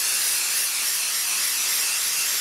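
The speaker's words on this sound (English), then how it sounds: "we're going to cover the whole back of our stencil with the Stick and Spray." A steady, continuous spray of aerosol stencil adhesive hisses close by for a couple of seconds, even and uninterrupted.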